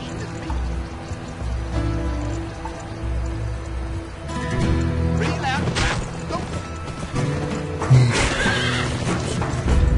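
A horse neighs and whinnies amid busy game sound effects and music, with hoof clatter and splashing mixed in, in the Western video game Gun.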